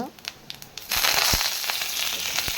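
Fennel seeds, dried red chilies and curry leaves hit hot oil with a loud, steady sizzle and crackle that bursts in about a second in and keeps spitting close by, after a few quieter clicks.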